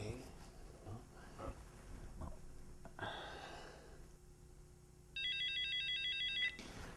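A telephone ringtone rings loudly in a steady electronic pattern for about a second and a half near the end, following quieter rustling and room noise with breathy sounds.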